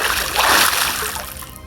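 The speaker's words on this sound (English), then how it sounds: "Dorothy drew another bucket of water and threw it over the mess" A bucket of water thrown across a floor gives a sustained, close splashing and sloshing wash that stays loud and slowly tapers off.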